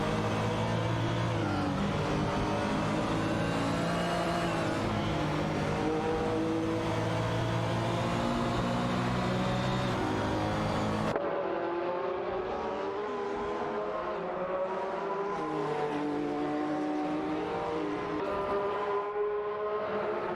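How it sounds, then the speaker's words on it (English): Race cars in an AI racing video game, steady layered engine whine at high revs, fairly faint and continuous, shifting to a thinner tone partway through. "Let's enjoy some thrilling AI race car action together."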